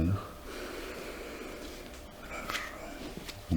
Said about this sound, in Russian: Глубокий вдох. Выдох.